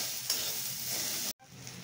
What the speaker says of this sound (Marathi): एक 2-3 मिनटं आपण छान ते असं तडतड वाजण्याचं बंद होईपर्यंत आपण छान भाजून घेणार आहे.